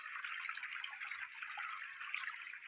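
Water sloshes and splashes continuously while a pond holding month-old tilapia fingerlings is cleaned by hand. The bright, rushing water noise is close and fairly even throughout, with no speech.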